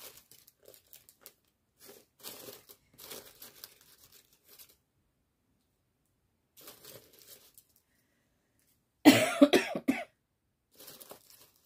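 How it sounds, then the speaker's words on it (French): A short burst of harsh coughing breaks through, loud and close, after stretches of quiet handling noises and soft rustling. "Je tousse parce que je suis malade."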